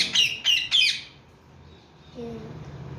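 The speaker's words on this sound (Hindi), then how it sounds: "वो सामने वाले तोते से बातें कर रहा है।" A pet parrot gives three loud, sharp squawking calls in quick succession, then goes quiet, and a voice speaks in the background.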